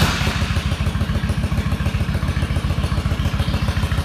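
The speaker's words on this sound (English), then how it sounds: "let's just turn the key and fire it up" A 1995 Honda Shadow 1100 motorcycle with 22,000 miles, started cold without choke, running with a loud, close, lumpy V-twin idle and a steady pulsing beat.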